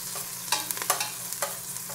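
Garlic and onion stir-fried in a pan for chicken bopis: a steady low sizzle with several quick spatula scrapes and taps in uneven bursts, close up, no voices.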